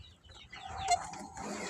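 Chickens and chicks in a coop, with soft clucking and peeping mixed into a low rustling background, fairly quiet and close, with a brief louder call near the middle.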